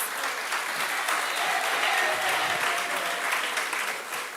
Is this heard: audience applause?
yes